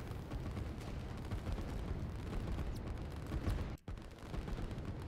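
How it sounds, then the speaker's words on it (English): Heavy artillery fire in the strategy video game Line War rolls on as a dense, continuous barrage of overlapping booms and rumble, briefly cutting out near the end before resuming. "This is a ton of artillery though."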